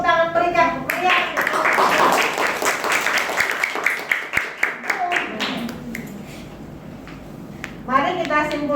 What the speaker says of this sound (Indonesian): Kita beri tepuk tangan meriah.